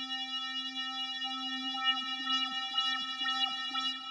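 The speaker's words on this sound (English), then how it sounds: "we can also have LFO 1, 2, or 3, for example, modulate our filter" Arturia Pigments software synth holding a sustained buzzy tone whose filter is swept by LFO 1, producing a steady wobbling, pulsing brightness in a loop-like rhythm, heard alone with no talk.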